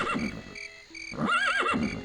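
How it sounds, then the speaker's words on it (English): Horses in the video game The Elder Scrolls II: Daggerfall give two high, wavering whinnies separated by a short pause, close and fairly loud against a quiet background. "Okay, calm down, horses."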